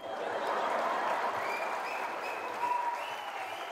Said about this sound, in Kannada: ಜನ ಚಪ್ಪಾಳೆ ಹೊಡಿತಾ ಇದ್ರೆ